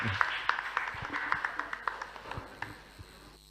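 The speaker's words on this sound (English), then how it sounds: "give them a round of applause once again" Faint, sparse clapping from a small audience at a school debate, a scattering of claps that tapers off over a few seconds.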